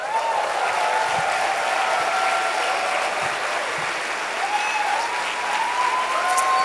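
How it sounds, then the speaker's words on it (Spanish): Steady applause from a church congregation during a sermon, many hands clapping evenly throughout, with faint voices mixed in beneath. "¿Le damos un aplauso a Jesús?"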